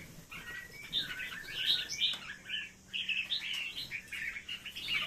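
Small young pet birds, some moulting, chirping in a busy overlapping flurry of short high tweets, moderately close with a brief lull midway.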